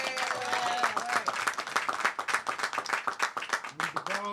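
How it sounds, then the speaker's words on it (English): An audience applauds at a bill signing for Pennsylvania's CROWN Act, a dense sustained wash of clapping hands with a few cheers and voices mixed in, loud and steady throughout. "Can we please give them a round of applause?"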